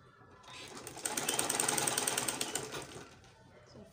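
A sewing machine runs a straight seam on a peplum, a rapid buzzing stitch that rises for about two seconds and then tapers off, heard alone at moderate loudness.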